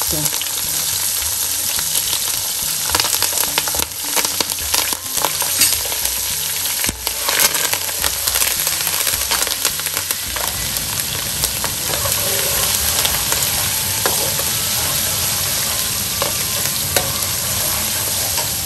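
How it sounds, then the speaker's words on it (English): Green chilies frying for spicy Maharashtrian chiwda, a loud steady sizzle and crackle with scraping stirs throughout, no voices. "now I will put green chilies"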